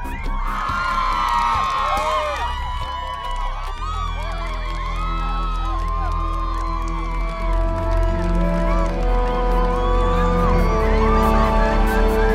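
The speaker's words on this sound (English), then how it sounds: "The crowd is going nuts. This is absolutely amazing. The crowd is loving him." A large crowd cheers, whoops and shouts continuously, loud and close, with excited voices and screams layered over a steady roar that swells and holds throughout.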